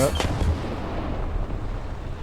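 Artillery shells in a World of Thunder-style video game battle boom in a quick opening cluster of loud low blasts, then a dense rolling rumble of distant gunfire continues underneath throughout.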